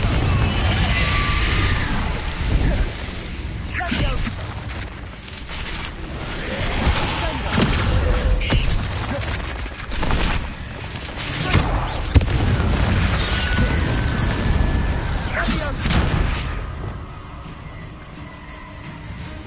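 Repeated Bombarda blast spells going off in the video game Hogwarts Legacy: loud booming explosions and bursts in a dense, continuous stream of combat noise, with incantations shouted between blasts.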